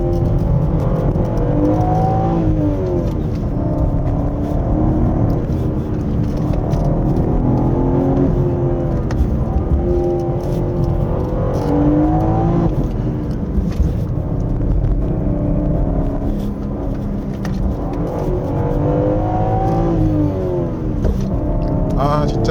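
BMW M3 Touring (G81, 2023) on a winding mountain road, engine rising and falling in repeated rev swells as the driver downshifts manually, loud and close, with talk running over it throughout.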